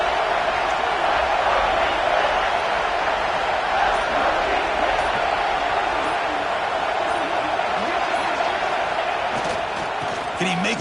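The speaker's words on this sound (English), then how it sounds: "And here comes the noise. This crowd is trying to inspire this defense to make a big red zone stop." Football stadium crowd roaring to rally the defense during an Oregon versus Michigan game, a loud, steady, broad wash of cheering that holds throughout, with a commentator talking over it.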